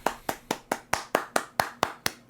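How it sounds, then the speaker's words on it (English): One person claps alone after finishing the Danganronpa video game, about ten crisp, evenly spaced claps at a steady moderate pace, close and clear. "Gotta get a little applaud there."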